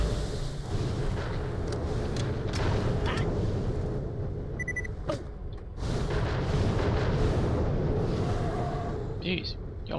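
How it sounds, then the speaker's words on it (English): Enemy gunfire and explosions in Borderlands The Pre-Sequel thunder through a chaotic firefight, heavy booms and scattered shots rolling over a rumbling backdrop as someone speaks throughout. "Nice if y'all quit shooting at me."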